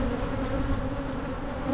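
Honeybees hum in an opened hive brood chamber, a steady dense buzz of many insects held close and even throughout, with no voices.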